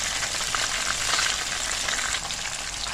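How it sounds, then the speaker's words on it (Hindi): Masala-coated fish fries in a pan with steady, close crackling sizzle that fills the whole stretch at an even level, with no voices. "बस अब थोड़ा सा इसको फ्राई करेंगे और फिर इसको निकाल लेंगे।"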